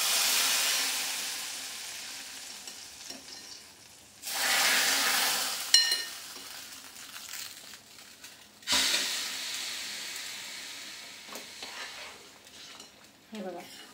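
Cashews and almonds frying in a pan for barnyard millet fasting kheer, a bright sizzle that rises in two strong bursts with stirring scrapes and clinks between them, close and without talk.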